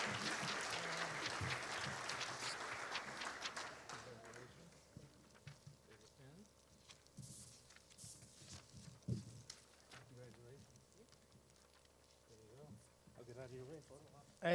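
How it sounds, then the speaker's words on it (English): An awards-ceremony crowd claps for Presidential Award winners: a dense burst of applause for the first four seconds or so, then it fades beneath a speaking voice. "One more nice round of applause for our winners of the Presidential Award"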